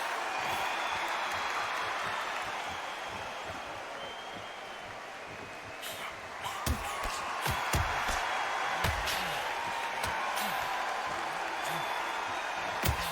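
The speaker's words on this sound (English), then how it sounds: "The crowd is absolutely eating this up" Crowd noise at a boxing match in a boxing video game, a broad steady roar that swells into applause and sharp claps and thuds in the second half, with no talk over it.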